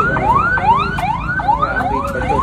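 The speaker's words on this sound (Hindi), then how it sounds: "और फायर ब्रिगेड भी आ चुकी है।" A fire brigade siren wails at a fire near a NADRA office, rising and falling in a fast, repeating sweep, loud and close with no voices over it.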